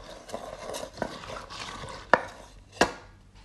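Coriander powder stirred into onions in a pan while kadai paneer is being cooked. Soft scraping and shuffling sounds sit under a quiet background, and two sharp metallic knocks of the spoon against the pan stand out near the end.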